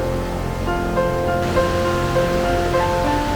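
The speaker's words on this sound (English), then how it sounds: "The famous Stradinsky waterfall." Steady broadband roar of a large waterfall in a Croatian national park, the famous Stradinsky falls, heard from a short distance as a continuous rushing wash with no talk.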